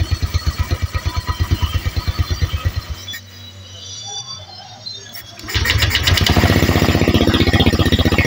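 A freshly assembled Honda Vario 150 motorcycle engine with an aftermarket exhaust runs close by, first chugging in a rapid, loud, even pulse, then dropping to a brief quieter lull before returning at a higher, steadier, harsher idle.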